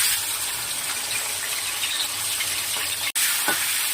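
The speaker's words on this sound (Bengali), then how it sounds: "তেল গরম হয়ে গেছে চিংড়ি মাছটা ভেজে নেব" Prawns fry in hot oil with a steady, close sizzle and faint crackling, interrupted once by a short break, with no talking.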